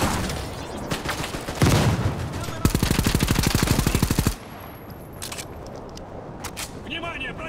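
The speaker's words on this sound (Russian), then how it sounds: "Шумовая граната!" A stun grenade goes off in the shooter game Kalibr amid a dense rattling burst of gunfire, then a thin high-pitched ringing tone lingers over quieter background sounds, with a voice audible.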